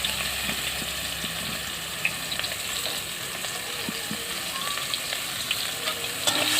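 Potato pieces, with onions to follow, fry in hot oil for a pangas fish curry. A dense, even sizzle holds steady throughout with small crackles and faint clinks, loud and close, with no voices.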